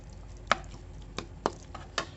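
A spoon stirs butter through fried pasta goreng in a pan, giving four or five distinct scraping clacks spread over a quiet, faintly hissing background, no talk.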